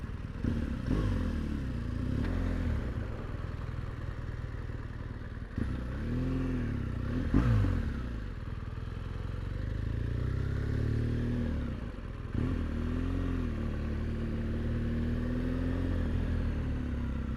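A 2016 BMW R1200GS motorcycle being ridden, its engine a steady close drone that rises and falls as it accelerates and shifts, with occasional clattering bumps.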